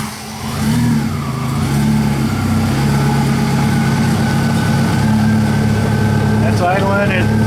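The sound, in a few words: WAR Corsair engine idling at about 1,000 RPM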